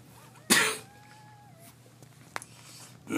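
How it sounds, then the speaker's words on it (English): A single sharp cough bursts out loudly, followed by a quiet stretch with a brief click and another rising noise at the end. "I had to cough that out"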